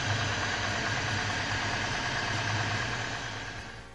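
A Subaru Forester with a swapped EJ25 engine idles without its idle control valve, a steady hum at close range, low and even, easing off slightly toward the end.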